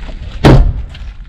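An exterior storage compartment door on an Outdoors RV Backcountry Series MTN TRX 28DBS travel trailer is shut, giving a single loud close thud with a short rattle. No voices are heard.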